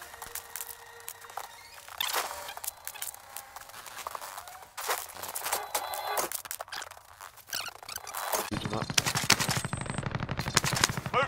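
Gunfire in the video game Call of Duty Warzone, on the Boneyard map, with rapid automatic bursts and single shots over continuous game ambience. The firing grows dense and loud toward the end.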